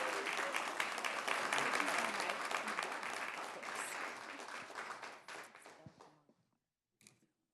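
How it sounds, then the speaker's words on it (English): Audience at a school board meeting breaks into loud, sustained applause that fades out over several seconds, ending with a few scattered claps. "Let's give a big round of applause to the one and only Mrs."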